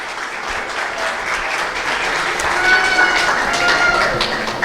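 Church congregation applauding all the mothers during a Mother's Day service, dense sustained clapping from a large crowd that swells slightly and continues steadily for several seconds, with faint voices mixed in.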